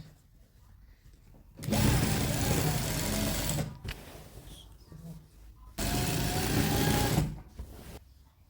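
A sewing machine stitches curtain tape onto fabric in two loud, steady bursts of several seconds each. Quiet pauses separate the runs, and a little handling noise falls between them.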